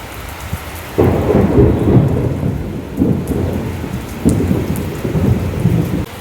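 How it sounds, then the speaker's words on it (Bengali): Heavy rain pours steadily while deep rumbles of thunder roll in repeatedly, loud and close, as the rain turns to hail. "কি সুন্দর বৃষ্টির শব্দ"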